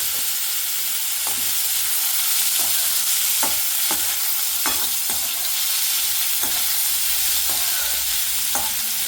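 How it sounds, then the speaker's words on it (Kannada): Pongal ingredients stir-fried in a pan, without salt, make a constant sizzle and hiss, broken by repeated sharp spatula scrapes and knocks against the pan at an irregular pace. "ಜಸ್ಟ್ ಫ್ರೈ ಮಾಡ್ತಾ ಇರ್ತೀನಿ, ನಾನು ಸ್ಟರ್ ಕುಕ್ ಮಾಡ್ತಾ ಇರ್ತೀನಿ"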